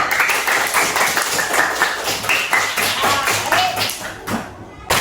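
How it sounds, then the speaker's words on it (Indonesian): Classroom of fourth-grade pupils clapping hands together in a sustained burst of applause, many quick overlapping claps filling the room, tapering off near the end. "tepuk tangan untuk kita semua"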